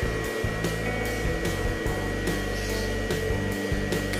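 Cooling fan of a 1200-watt modified sine wave inverter powering a rice cooker, a steady close whirring blow with a constant electrical hum and faint rhythmic fluctuations, no talking.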